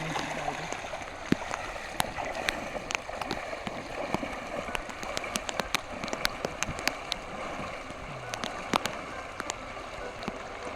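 Water rushes steadily with a dense, churning roar, broken by scattered splashes and sharp knocks close by; no talking.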